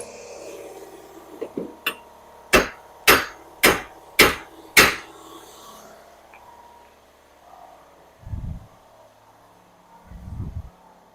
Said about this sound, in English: We ended up having to bring out the giant sledgehammer.